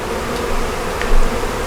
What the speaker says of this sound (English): there's a bee coming in with a big load of bright yellow pollen